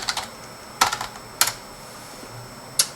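A few separate keystrokes on a computer keyboard as a command is typed into a Red Hat Linux terminal: sparse, close, crisp clicks with pauses between them and no voices.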